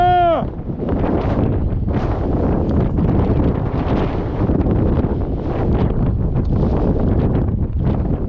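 Wind roars over the microphone while riding a bicycle downhill through a redwood canyon near the ocean, a loud, continuous buffeting rumble that persists throughout.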